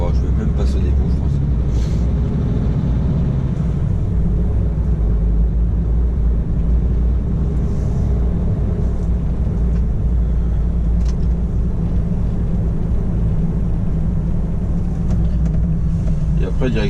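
A truck drives along a road, its engine a steady low rumble that continues throughout without breaks.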